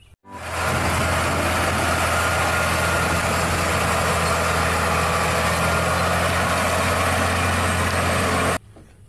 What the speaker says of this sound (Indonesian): Wow, ini adalah truk gandeng.